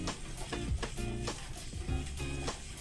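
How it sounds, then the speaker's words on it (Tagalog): A leche flan mixture is stirred in a bowl, with repeated scraping, whisking strokes at a steady rhythm of roughly two per second. The strokes are close and fairly quiet, with no voices. "Now, haluin lang po natin siyang maigi. Hanggang mag-combine po lahat yung ating sangkap."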